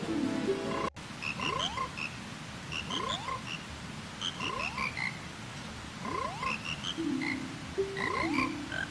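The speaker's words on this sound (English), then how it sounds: "You talking about the frog choir?" The frog choir from the video game Majora's Mask croaks in a repeating pattern, a swooping croak followed by bright chirpy notes cycling steadily about once a second, clear and prominent over a low background bed.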